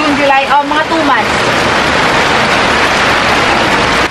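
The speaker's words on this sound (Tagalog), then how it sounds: "Sobrang lakas ng ulan." Heavy rain pours down in a garden, a loud, dense, continuous hiss of downpour filling the scene, with a brief voice heard near the start.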